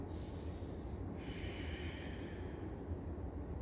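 A slow breath held through a yoga stretch, drawn out as a soft, airy exhale that rises for a couple of seconds over a quiet, steady room hush, with no talking.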